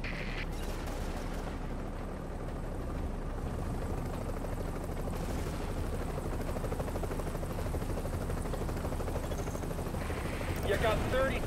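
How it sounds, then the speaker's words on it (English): A video-game helicopter sets down, its rotor a dense, continuous chopping roar that stays loud and close throughout, with radio voices talking over it. "Okay, we're putting the chopper down."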